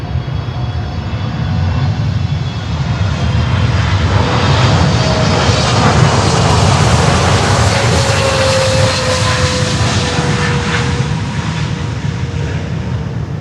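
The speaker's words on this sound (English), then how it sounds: "Touchdown." An airliner touches down on the runway at Miami airport, its engines roaring loud and steady throughout with a broad rumble and rising whine, alone with no voices.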